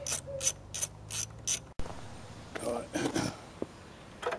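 Ratchet wrench with a long 10 mm extension loosening the battery clamp bolts on a Honda Civic 2.2 CDTi, a quick run of close clicking strokes, then softer metallic clanks and handling noises.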